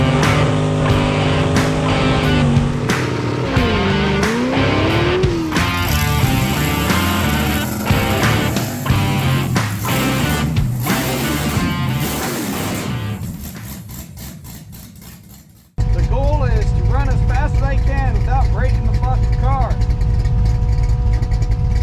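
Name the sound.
Chevrolet Corvette drag racing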